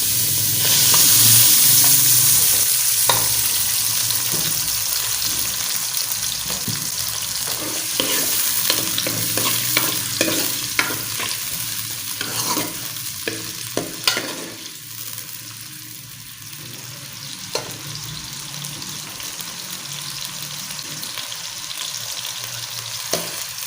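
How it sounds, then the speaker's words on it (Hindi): Onions frying in ghee in a pressure cooker while being stirred: a steady sizzle broken by repeated scraping and clinking strokes of a spoon against the metal pot, close up, with no speech. "प्याज़ों को कर देते हैं हल्का सा ब्राउन"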